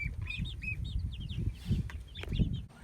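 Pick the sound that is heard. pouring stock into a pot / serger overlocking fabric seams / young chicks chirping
young chicks chirping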